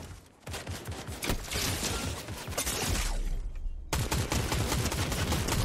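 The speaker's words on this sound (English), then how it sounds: "Oh, he's shooting me." Rapid bursts of gunfire from an opponent in Fortnite, dense and loud, sweeping through a quick run of close shots with a brief break before another volley.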